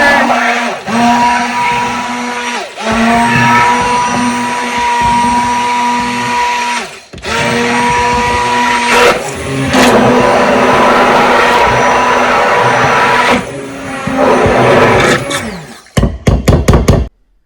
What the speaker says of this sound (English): blender, and we are just gonna mix this up super quick, make it nice and silky smooth.